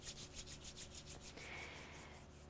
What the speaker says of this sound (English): Rub your palms together in front of your chest.